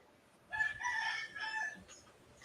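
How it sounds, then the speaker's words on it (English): A rooster crows once at a distance, a drawn-out call rising and falling over about a second, with faint clucking from chickens in a quiet barnyard. "Chickens agree. Even the rooster agrees."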